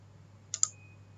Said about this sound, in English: Just simply double click on that.